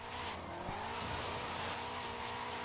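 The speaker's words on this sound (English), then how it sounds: "if I need to toss myself into a quick drift, I will use it. Like right now" A car in Forza Horizon 5 thrown into a quick drift with the e-brake, its engine droning loudly and steadily while the tires squeal and skid.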